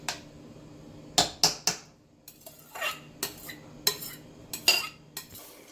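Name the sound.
spoon spreading rice evenly in a pot for beef biryani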